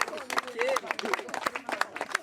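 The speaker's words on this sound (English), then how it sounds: "Round of applause for Simon" Applause and scattered clapping from an outdoor crowd at a snail racing world championship, greeting a snail trainer, with crowd chatter mixed through the short burst.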